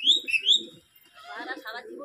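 Kalshira and Phulshira pigeons at a house in Madhyamgram, with close, soft cooing and a few chirpy calls in short bursts, alongside some bird-like tones.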